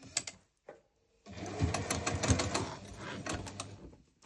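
A sewing machine top stitching a magnetic bookmark runs in a steady mechanical whir, with a couple of short bursts at first, a brief pause, then one sustained close stitching run.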